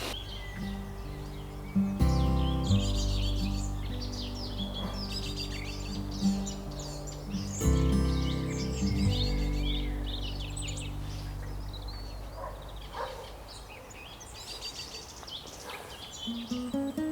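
Several garden birds sing and chirp continuously near a bird hide, with varied bright calls overlapping, fairly close and clear, with no talking.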